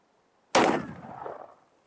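A single loud rifle shot fired at scrap metal armor over a ballistics gel torso, a sharp crack after a moment of silence that rings and rolls off over about a second, with no talking.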